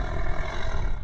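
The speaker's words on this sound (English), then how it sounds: "the big roar, the long roar comes over the speakers and just pumps up the home crowd a little bit" A long recorded tiger roar booms over the stadium speakers at a local Australian football match in Toowoomba, loud and continuous with a rumbling, sustained growl filling the whole moment.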